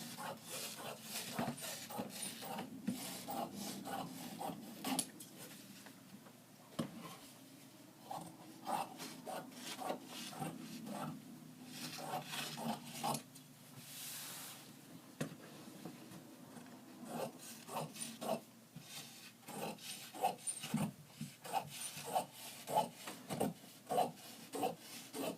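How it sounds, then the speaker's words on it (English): Scissors cutting away excess fabric from a jabot pattern, giving a steady run of close rasping, rubbing snips that repeat irregularly for the whole stretch, with no talk. "Now we're going to cut off the excess."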